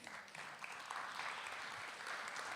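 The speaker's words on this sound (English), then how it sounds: "An applause, please." Audience applause at a wine tourism conference, a steady, dense wash of clapping that carries evenly through the short stretch with no talk over it.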